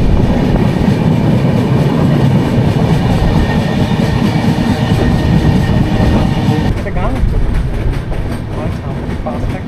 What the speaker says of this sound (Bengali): হাওড়া থেকে টোটাল 212 কিলোমিটারের যাত্রাপথ সম্পূর্ণ করে আমাদের ট্রেন এই মুহূর্তে এসে পৌঁছালো এই ঘাটশিলা স্টেশনে।